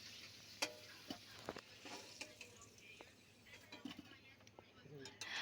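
Potato pieces fry in hot oil in a home kitchen while they are browned for a meat curry, giving a steady low sizzle broken by scattered clicks and stirring taps, fairly faint and close.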